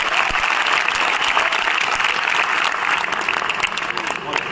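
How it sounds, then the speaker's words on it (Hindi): Loud, sustained applause from a crowded college audience at an event honouring a film director and writer, dense steady clapping filling the whole stretch without a break. "जोरदार तालियां"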